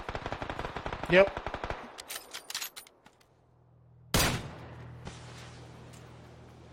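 Rapid bursts of automatic gunfire from a video game, a dense rattling volley followed by scattered single shots and a heavy blast, with a player's brief voice heard.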